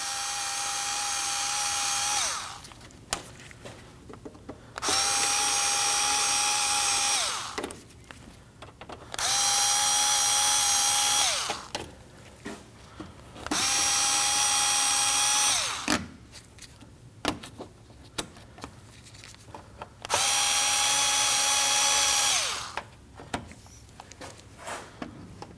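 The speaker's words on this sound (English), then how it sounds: "So use a screwdriver, go ahead and take those out." A powered screwdriver whirs in five separate bursts of about two seconds each as it backs plastic clips out of a Kia Optima front bumper. Quieter clicks and handling noises fill the gaps between bursts.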